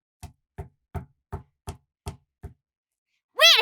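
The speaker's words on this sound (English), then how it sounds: "we heard a knock on the door" Seven sharp knocks on a door in an even, deliberate rhythm, clear and close against silence, followed by a brief burst of voice.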